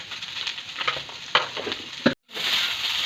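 Spiced potato samosa filling with garam masala, chilli powder and salt, stirred in a frying pan, a close, steady sizzle with scraping strokes, briefly cut off before the frying hiss resumes.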